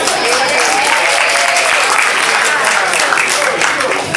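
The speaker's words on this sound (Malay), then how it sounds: "Nampak tepukan paling gemuruh?" Thunderous applause from a large audience at a Mini Bangsawan competition, a dense, steady roar of clapping that carries evenly throughout without pause.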